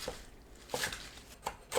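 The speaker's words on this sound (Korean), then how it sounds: "4cm에서 5cm 길이로 썰어주세요." A kitchen knife chops water spinach (morning glory) into short lengths on a cutting board, making a few separate, soft crisp cuts about a second apart, close and fairly quiet.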